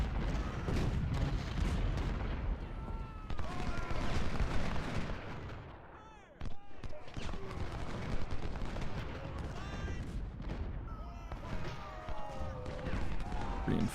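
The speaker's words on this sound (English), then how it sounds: "You can see here our skirmishers are already firing on the enemy." Skirmishers firing in the Ultimate General: Civil War game, a dense crackle of musket shots and distant booms rolling continuously over battlefield ambience, with a brief lull midway.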